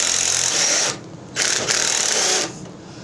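Bolt being worked loose from the wheel of a Murray snow blower, a 1/4 inch bolt turned with a hand tool, giving two loud bursts of close, dense mechanical clicking with a short quieter gap between them.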